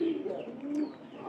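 Pigeons coo in a straw-bedded pigeon loft, a low, close throaty call that comes in short bursts, joined by a faint chirp.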